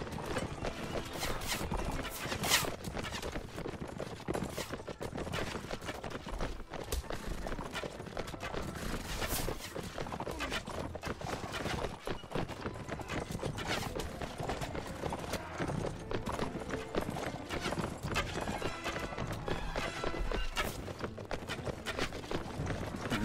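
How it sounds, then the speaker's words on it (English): Dense hoofbeats of many horses galloping in the battle game Mount & Blade, a continuous loud clatter with no pauses and no talking. "Fair number of horses."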